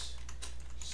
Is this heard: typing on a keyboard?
yes